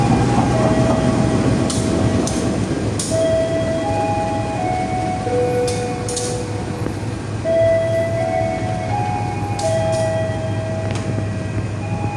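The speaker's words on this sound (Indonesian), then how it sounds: "Pukul 3:40, kereta api Serayu diberangkatkan kembali dari stasiun Banjar menuju tujuan akhir stasiun Purwokerto." Serayu passenger train pulling out of Banjar station, a continuous low rumble of rolling wagons with steady wheel and track noise, faint squeals and brief bursts throughout, no voices.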